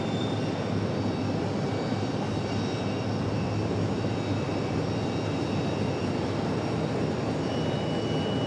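A Delta airliner on flight 1550 departs Raleigh-Durham airport for Atlanta, its engines giving a steady, loud, broadband roar that holds throughout with no voices.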